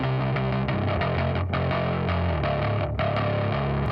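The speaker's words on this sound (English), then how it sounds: "And this one's labeled bass distortion." A distorted bass guitar track plays alone, with thick, gritty sustained notes and sharp note changes in a steady, loud riff. No one speaks.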